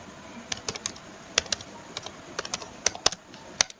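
Typing an SQL query on a computer keyboard, with a steady run of crisp, close keystrokes in an irregular rhythm and a few sharper key hits standing out, with no talking.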